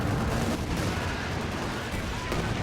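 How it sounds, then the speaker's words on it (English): A creeping artillery barrage in Company of Heroes 2 rumbles as a dense, continuous wall of overlapping shell blasts and gunfire, loud and unbroken throughout the short stretch. "it was a creeping barrage"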